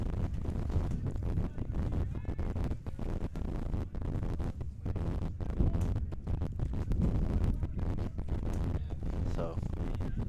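Gusty wind buffets an outdoor sports field during a men's final, a steady low roar and microphone rumble running throughout under a commentator's voice.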